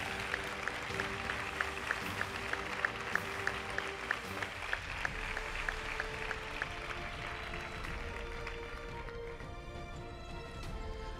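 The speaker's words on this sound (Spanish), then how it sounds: "Un fuerte aplauso para las escuelas infantiles de Isla Cristina." Steady applause from a crowd at a school tribute gala in Isla Cristina, continuous clapping over a sustained bright wash of sound, with a repeating tonal pulse running underneath for the first half.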